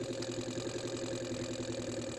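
An SI engine in an ignition-system lab demonstration runs steadily, a continuous mid-pitched mechanical hum with a fast regular pulsing throb, close and even, with no talk.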